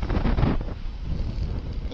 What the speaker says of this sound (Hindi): ठंडी हवा चल रही है मस्त